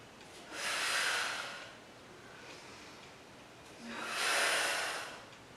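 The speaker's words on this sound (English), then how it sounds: "Big exhale" Two slow, breathy exhalations come during a Pilates interval workout, soft and close, with a quiet pause between them.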